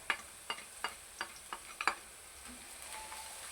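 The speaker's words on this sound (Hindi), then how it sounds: "ये मैं चॉप करके लहसुन रखा था 1 टेबल स्पून, ये देखें ये डाल रहा हूँ।" Chopped garlic goes into a pan of sizzling ginger and green chilies for a ridge gourd and chana dal dish, giving a short run of sharp taps and stirs over a steady frying hiss, with no talking.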